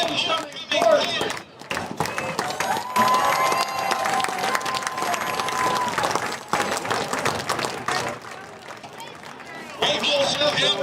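A crowd at a high school homecoming football game applauds and cheers for the 2025 homecoming team, a steady dense wash of clapping and voices filling the stands for about ten seconds, easing briefly before swelling again.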